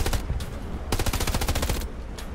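Automatic gunfire in the World War II game Hell Let Loose, a rapid close burst of machine-gun shots in a tight rhythmic stream, with a few single shots before and after.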